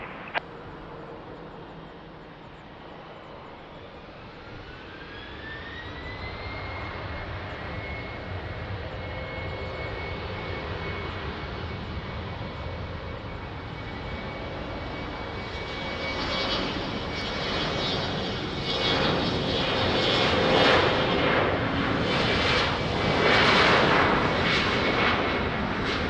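An Air Portugal airliner takes off from runway 20 at Lisbon Airport. Engine whine climbs in pitch and settles into a steady tone as a broad roar builds and swells loudly, with no voices.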